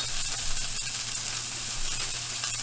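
Hamburger buns toasting in a hot pan with a steady, close sizzle and faint crackle over a low hum, continuous and even throughout.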